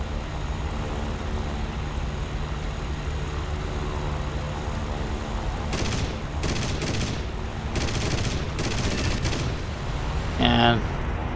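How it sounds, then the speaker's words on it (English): The cannon and guns of a Yak-9T fighter in War Thunder fire in several short rattling bursts over a steady droning engine, followed by a brief sharper hit near the end. "And with a few shots we take him out."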